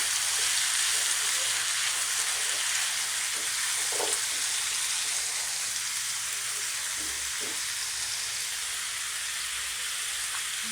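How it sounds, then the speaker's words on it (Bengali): Sweet pumpkin frying in a pan with salt gives a steady, close, continuous sizzle, with faint scrapes from stirring now and then and no talking. "এবার লবণ দিয়ে একটু নেড়ে চেড়ে নেব"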